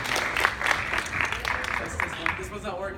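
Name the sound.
audience applause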